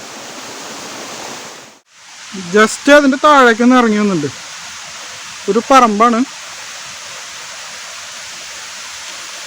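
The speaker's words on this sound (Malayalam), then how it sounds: "വെള്ളച്ചാട്ടത്തിൻ്റെ ഏറ്റവും താഴെ നിന്നുള്ള കാഴ്ചയാണ് ഇപ്പോൾ കാണുന്നത്" Parayaruvi waterfall roaring as a steady, loud broadband rush of falling water from the base of the falls, continuous throughout, with someone talking over it in two short stretches.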